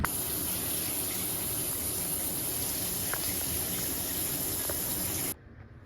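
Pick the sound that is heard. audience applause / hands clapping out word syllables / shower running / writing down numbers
shower running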